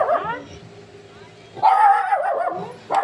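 Dog barking in a home vlog setting, a short yelping burst at the start, then a louder run of barks and whines after a quiet gap, with a final yip at the end.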